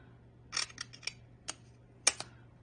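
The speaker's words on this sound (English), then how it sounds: "Now let us cut the ends off" Blade cutting through the ends of a polymer clay cane, a few faint, sharp clicks and snips close up in an otherwise quiet room.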